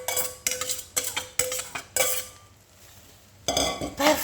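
Scrambled egg being stirred into fried rice in a pan, a metal spatula clinking and scraping against the pan in quick repeated strokes, then a short quiet pause before more scraping.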